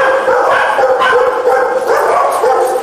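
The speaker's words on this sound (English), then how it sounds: "There's vocalization, there's barking, there's chasing." Dogs bark and yip excitedly in a busy, continuous flurry, several voices overlapping close by with whimpering mixed in.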